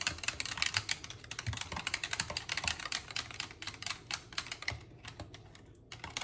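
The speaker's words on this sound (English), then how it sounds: "So we're going to whisk this really well." A custard mixture is whisked briskly in a bowl until smooth, making fast, dense, close scraping and clicking strokes that run steadily with a slight slowdown near the end, with no talk.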